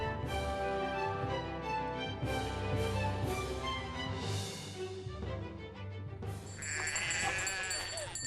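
Alpine goats met along a path in Austria's Hohe Tauern mountains bleat several times over continuous background music, the calls blending into the music at moderate loudness.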